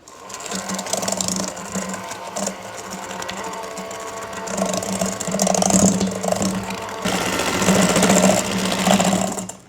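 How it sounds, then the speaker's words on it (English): An electric hand mixer whirs steadily as it beats keto banana pudding ingredients toward a pale yellow, a continuous buzzing motor drone that rises slightly in intensity toward the end, heard alone without talk. "All right, got my hand mixer here. It's gonna take a few minutes, but go ahead and keep mixing it until you have that pale yellow."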